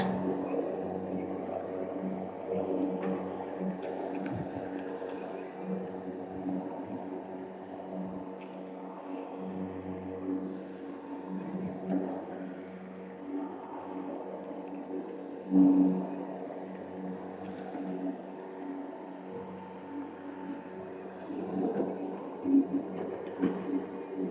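A Turf Tracer lawn mower runs with a steady, droning engine hum that holds for the whole stretch, rising briefly in one loud swell and then settling back.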